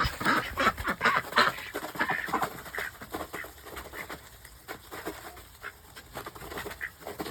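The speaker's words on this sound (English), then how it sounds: "That's my good ducks. That's my good ducks. They're my ducky ducks." Several ducks quack and chatter busily in a noisy burst, loudest at first and then settling into scattered calls with other birds mixed in.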